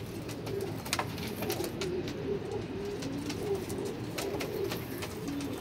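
Teddy pigeons, including a female, coo in a low, continuous, overlapping murmur, with soft wing flutters and scuffs mixed in nearby.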